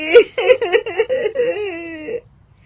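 A woman cries at night, one close, wavering voice sobbing and wailing in rising and falling bursts for about two seconds before stopping abruptly.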